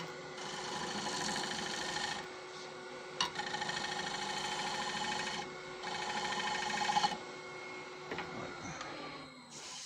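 A wood turning tool cuts on a lathe in a push cut, a steady rasping, whirring scrape in long bursts with short pauses between passes, close and fairly loud.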